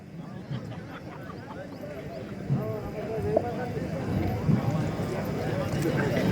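Horse hooves clip-clop in a steady, fast rhythm during a horse race at Bhucher Mori in Gujarat, mixed with crowd noise and someone talking over the action.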